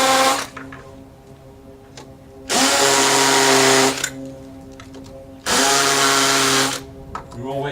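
An electric drill whirs loudly in two bursts of about a second and a half each, separated by quieter stretches with light handling noises.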